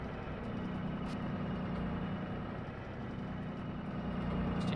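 In the Rigs of Rods driving game, a truck engine idles with a steady, low, droning rumble that holds constant at moderate level throughout, with no talking.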